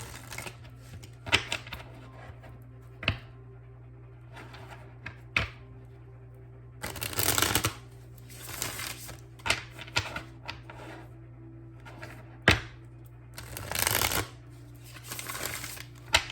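A Spirit Song Tarot deck is shuffled close by, giving scattered soft riffling bursts and taps between quiet pauses, with one longer flurry of shuffling in the middle.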